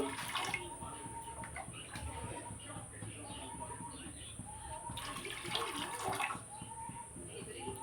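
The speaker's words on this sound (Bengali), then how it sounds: "এই বাটিটার মাপে আমি জল দিয়ে দিচ্ছি" Water poured from a small measuring bowl into a bowl of lentils in a home kitchen, a steady splashing trickle close by, with a voice talking over it throughout.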